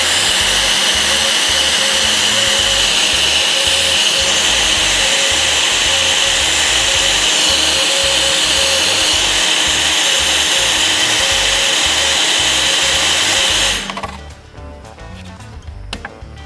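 Heat gun shrinking glue-lined heat shrink tubing over a soldered wire joint, a loud steady blowing roar that cuts off near the end, leaving faint handling noise.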